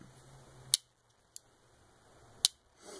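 A Spyderco Manix 2 folding knife, satin stainless steel backspacer, snaps against its blade stop in three sharp clicks, two louder ones spaced apart with a fainter one between, close up with no talking.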